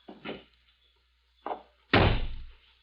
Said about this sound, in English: stand aside while I release the brake and close the door.